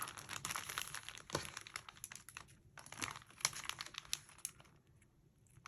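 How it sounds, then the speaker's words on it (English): Backing strips peel off score tape on a paper bag mini album page, a faint crinkly crackle with small sharp ticks, close and quiet with no voice. "And removing the backing from the score tape on this side."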